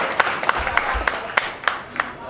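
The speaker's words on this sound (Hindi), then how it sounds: "इनका जोरदार तालियों से स्वागत करो भाई" An audience at an Adivasi Divas gathering in Gariaband claps to welcome a speaker, giving sparse, distinct claps at an uneven rhythm with faint crowd sound in the background.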